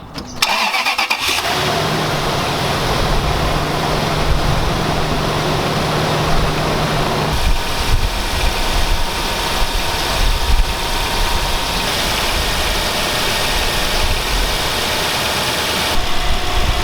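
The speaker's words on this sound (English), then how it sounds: "I just started it up and then I'm going to let it run for maybe like 10 minutes" A Lexus GX470 with a 4.7L 2UZFE V8, just after a valve cover gasket replacement, cranks and fires up, then settles into a steady, loud, close idle hum that runs on evenly.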